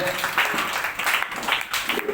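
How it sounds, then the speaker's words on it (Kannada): Applause for a school quiz team at a weekly quiz event in a primary school, a brief burst of clapping from a crowd mixed with a speaking voice over it. "ಅವರಿಗೂ ಒಂದು ಚಪ್ಪಾಳೆ"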